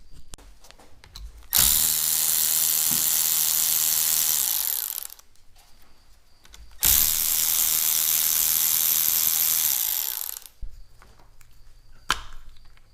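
A ratchet removes bolts from a 4L60E automatic transmission case. It makes two long, loud, steady whirring bursts of a few seconds each, separated by quieter clicks and handling noise.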